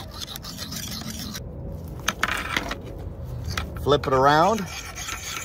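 A metal file rasps over a pruning tool's blade in a circular sharpening motion, close scraping and rubbing strokes in an uneven rhythm, with a brief spoken remark partway through.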